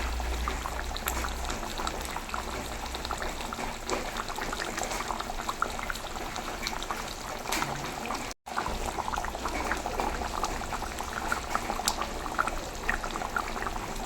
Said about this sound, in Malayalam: ഇവിടെ നല്ല വെള്ളം തിളച്ചിട്ടുണ്ട്